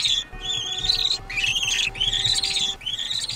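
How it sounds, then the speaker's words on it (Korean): Rabbit cries in the GTA 5 video game, triggered repeatedly: a series of high squeaky squeals that rise in pitch, four in a row in a steady rhythm, over a low game background with a faint steady tone. "여러분 제가 토끼의 울음소리 들려드릴게요"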